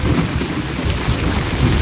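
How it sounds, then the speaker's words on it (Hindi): Heavy rain pours steadily over Nainital lake under a red alert, with low rolling thunder rumbling beneath the dense, close hiss of the downpour throughout. "और कल से ही बारिश है"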